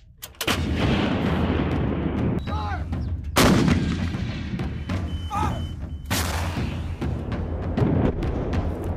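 M777 lightweight towed artillery howitzer firing, several heavy booming blasts spaced a few seconds apart with rumbling echoes between them, loud and close.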